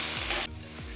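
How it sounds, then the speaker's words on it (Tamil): Onions frying in a pan give a steady, loud sizzle that drops to a quieter crackle midway, with faint stirring scrapes beneath. "வெங்காயம் நல்லா வதங்கட்டும்."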